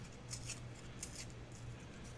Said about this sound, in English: I'm just going to use a little piece of this thin paper, and I think I'm just going to tear it